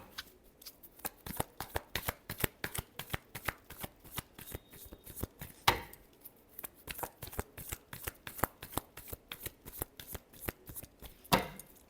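Tarot cards being shuffled by hand, a steady run of crisp riffling snaps up close, with a sharper slap near the middle and another near the end.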